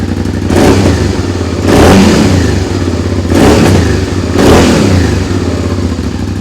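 A Suzuki SV650S motorcycle engine idles loudly nearby with a lumpy, throbbing beat, blipped up in four rhythmic revs that rise and fall between steadier idle stretches.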